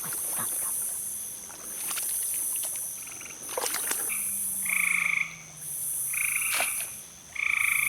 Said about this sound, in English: That's not a bullfrog anyway. That's like a green frog.